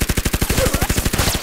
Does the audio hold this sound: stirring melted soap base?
no